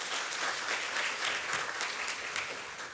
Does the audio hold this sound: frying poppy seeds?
no